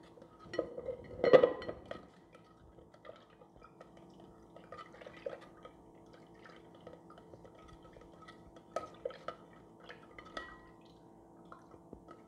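Homemade clear liquid soap stirred in a container gives faint, sparse clinks and liquid drips of a utensil against the vessel, with a brief louder splash-and-clatter near the start and scattered soft taps afterward.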